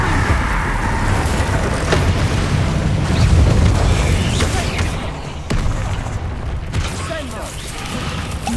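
Spell explosions from combat in Hogwarts Legacy on PS5 make a loud, continuous roaring rumble with sharp cracks and booms scattered throughout, and the level eases slightly partway through.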